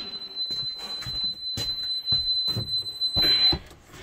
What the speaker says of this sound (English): Now we're in alarm.